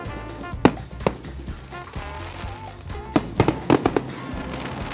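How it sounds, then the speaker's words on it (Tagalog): Fireworks at Enchanted Kingdom theme park go off in scattered bursts, sharp bangs and crackling pops ringing out over a busy background hum. "May fireworks pang Enchanted Kingdom."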